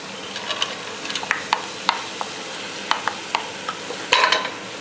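Moong dal stirred into dry spices frying in a pan, a loud continuous sizzle punctuated by sharp spoon clicks and scrapes, ending in a burst of heavier stirring.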